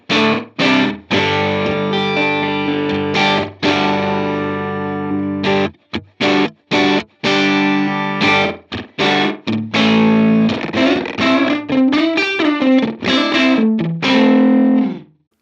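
An electric guitar run through a Line 6 Helix reverb plays loud chords and single notes, each ending in a lingering wash of reverb and slight distortion, with short gaps of near silence between phrases.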